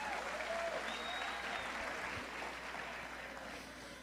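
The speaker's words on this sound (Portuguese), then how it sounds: "Palmas pro amigo que achou o livro" A conference audience at the Inova Conference 2022 applauds steadily for an attendee who found a book, the sound a faint, even wash of many hands clapping that fades slightly toward the end.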